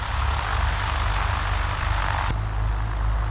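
A Cessna 172 rolling slowly on the runway after landing at Hobby Field, with a loud, steady propeller engine drone heard from inside the cabin that holds an even tone throughout.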